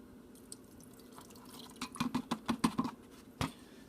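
Soy sauce drips and trickles into a container for a chicken marinade, a run of small close liquid plops in quick succession with no talk.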